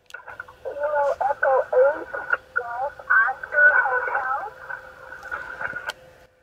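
A faint amateur radio station calling in a portable parks-on-the-air contact, the voice buried deep in hiss and static, with choppy warbling sideband tones breaking through the noise.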